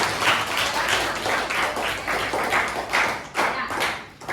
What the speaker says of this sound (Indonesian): beri tepuk tangan buat teman kita semua